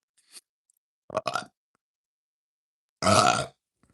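Three separate burps, a short faint one, then a gurgling mid-length belch, and finally a loud, rough, drawn-out burp close up, with silence in between.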